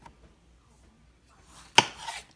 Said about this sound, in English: I'm going to go ahead and start cutting up these tomatoes